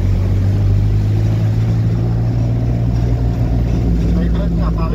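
A motorcycle engine drones steadily and loudly throughout a ride, with a continuous low hum and rush of wind and road noise and no clear break.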